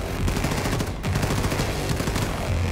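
Rapid, loud gunfire from the shooter video game Wolfenstein II: The New Colossus, with dense bursts of automatic shots and echoing reports that run nearly continuously throughout.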